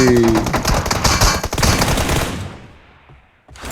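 Rapid automatic gunfire in the mobile battle game PUBG Mobile during a team deathmatch tournament final, loud dense bursts that stop abruptly before a brief final shot.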